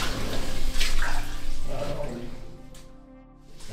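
Water rushing under pressure through the Milá Paní mine tunnel in Mikulov, a loud, steady close-up gush that thins toward the end.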